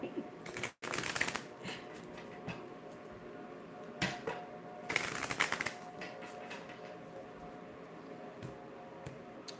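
Tarot cards are shuffled in irregular papery riffles and flutters, close by and fairly soft, with a couple of louder bursts of card handling.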